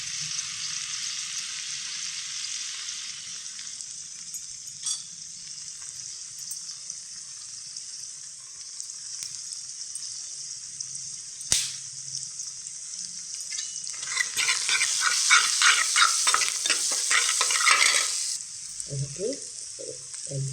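Egg frying in a pan gives a steady high sizzle throughout, with a single sharp knock partway through and a louder burst of stirring and scraping near the end, close and moderately loud.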